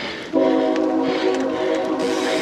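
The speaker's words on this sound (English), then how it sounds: "which is why you can hear that train" A train passes close to a parking lot, its horn sounding loud and steady from about a third of a second in with stacked tones, over a rumbling, rattling rail-car background.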